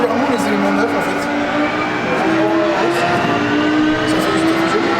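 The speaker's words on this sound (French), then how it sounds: "C'est un moteur de 240 chevaux." A tuned 240-horsepower car engine with a Vitorrelli exhaust runs loud and steady with wavering engine tones, while people talk over it.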